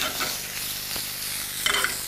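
Endive and truffles fry and spit in a hot pan, a steady close sizzle with scattered crackles and a brief brighter burst of spitting near the end.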